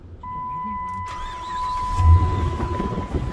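A 2007 Dodge Ram 2500 with a 5.7 Hemi gas engine and about 130,000 miles cranks and fires up, catching quickly into a loud, rumbling idle after a short, tonal whine.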